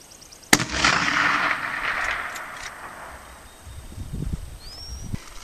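A single sharp rifle shot from a Winchester 94 in .30-30 firing a 150 grain flat-nose cast bullet at a target 350 yards away cracks out, then a long rolling echo fades outdoors.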